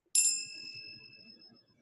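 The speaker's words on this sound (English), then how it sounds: "Thank you for bringing the bells in." A single bell struck once, a bright clear ring that decays slowly over about a second and a half, heard alone and close.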